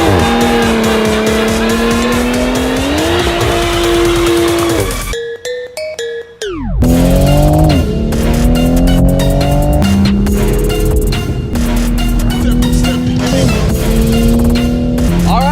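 A 2020 Toyota Supra revs hard and loud while drifting, its engine pitch climbing and falling in repeated surges with tire squeal mixed in and a brief drop in the middle.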